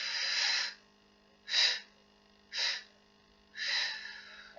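Four forceful breaths during a Pilates exercise, breathy and close, the first and last long, the middle two short, with quiet gaps between them.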